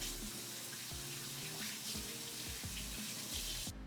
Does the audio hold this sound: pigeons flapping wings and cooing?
no